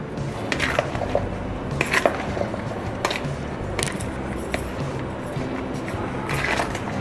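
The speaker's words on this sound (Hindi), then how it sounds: "अब हम इसमें इमली और खुबानी की खट्टी मीठी चटनी ये ऐड करेंगे और इसको मिक्स कर देंगे" Fruit chaat mixed with tamarind-apricot chutney in a bowl: continuous wet, squishy tossing with scattered clinks of a spoon against the bowl, close and steady throughout.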